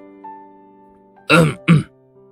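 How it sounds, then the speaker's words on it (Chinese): A man clears his throat twice, close and loud, in two short rasping bursts over a quiet, faintly humming background. "他清了清嗓子道"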